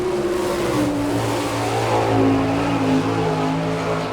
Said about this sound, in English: A Maxim chassis and a V&V racing engine.